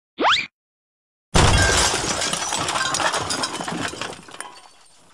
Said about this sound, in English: I'm going to smash the Subway restaurant windows